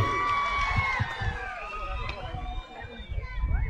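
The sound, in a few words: crowd applauding and cheering at rally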